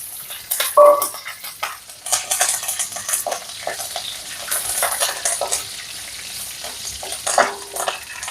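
Dried red chilies and curry leaves sizzle in hot oil, a steady crackling fry for the whole stretch, with a few sharp pops and light clinks of a pan or spoon near the start and end.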